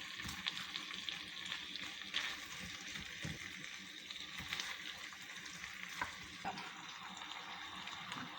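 A whole medium onion hits hot oil and fries with a soft, steady sizzle, broken by scattered crackles and spoon taps for Dum Murgh, faint and close-miked.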